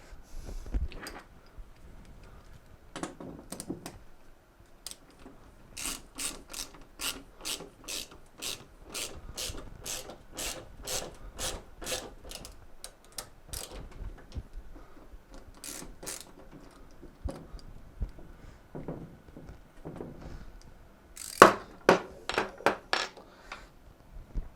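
A ratchet drives a lag bolt into a wall to mount a TV, giving a long run of quick, even metallic clicks in bursts, fairly close and quiet, with short pauses and a few louder clanks near the end.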